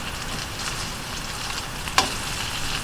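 Meatballs frying in oil in a pan for spaghetti and meatballs, a steady close crackling sizzle throughout with one sharp scrape or clink partway through.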